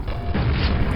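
A grenade blast in the Quake video game, played on PC with Quakespasm: a loud, dense booming rumble that stays thick across the whole second with no clear gap.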